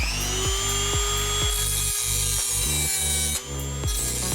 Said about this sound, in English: Now I'm just going to cut these studs off